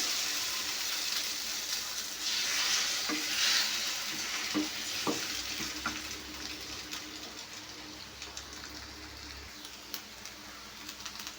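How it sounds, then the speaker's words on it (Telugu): Eggs fry in a pan with carrot masala and are stirred, giving a soft, continuous sizzle with occasional scrapes and light knocks, fairly quiet and without speech. "ఇట్లా కారం మసాలా అంతా వేగిన తర్వాత ఇప్పుడు మనం ఎగ్స్ వేసేసుకోవాలి"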